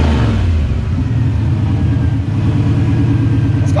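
A turbocharged GT40 stock-block Ford Foxbody V8 with big injectors idles loud and close with a deep, lumpy rumble, holding a steady throb throughout.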